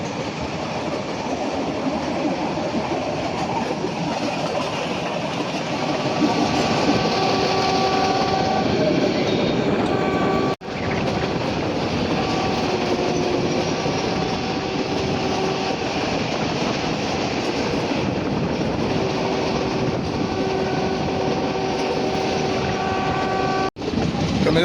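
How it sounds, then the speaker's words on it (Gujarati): A meter gauge passenger train on the Dhari to Junagadh line runs steadily, heard from on board as a loud, continuous rumble and rattle of wheels and carriages with faint squealing tones, sustained throughout. "આ છે આપણી મીટર ગેજ ટ્રેન મિત્રો,"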